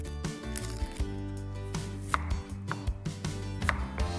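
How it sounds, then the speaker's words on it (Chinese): Knife cutting shallots into quarters on a wooden chopping board, a string of crisp, close taps at an uneven rhythm, some soft and some sharper, with no voices. "红葱头1切4"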